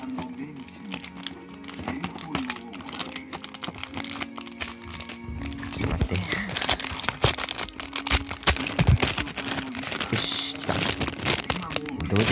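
Packaging for a rare Tomica Isuzu Elf toy truck in Nishihara Shokai livery is opened up close. Rapid plastic and cardboard crinkling, tapping and rustling carry on throughout, under intermittent talking.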